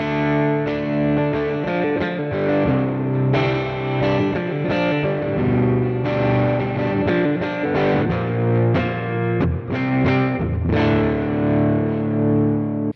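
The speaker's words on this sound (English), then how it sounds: "even if you have distortion, you still hear the clarity of each individual note." Heavily distorted electric guitar chords from a Stratocaster with TV Jones Powertron Plus pickups, strummed steadily and loudly, ringing together with a thick, saturated tone and no voices.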